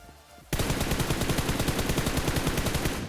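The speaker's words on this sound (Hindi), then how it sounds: "अभी यहाँ किसी ने फायर किया" Rapid automatic gunfire in the battle royale video game BGMI, starting abruptly after a quiet half second and then continuing as a loud, dense, evenly spaced burst of shots to the end.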